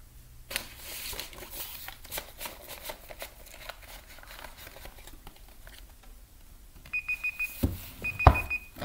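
An electronic kitchen timer starts beeping near the end in short, repeated pulsed bursts, following a stretch of shuffling and handling noise as vinyl records are sorted.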